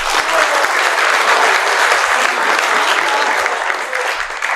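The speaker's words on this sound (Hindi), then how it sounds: "इसमें ताली बनती थी।" Enthusiastic audience applause, dense and loud clapping sustained throughout before tapering slightly at the end.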